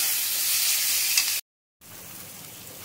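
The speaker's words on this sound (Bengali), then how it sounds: "মশলাটা কষে নেব।" Spice masala with cabbage fries in a pan, giving a steady, soft, hissing sizzle that cuts out briefly and then returns, with no voices.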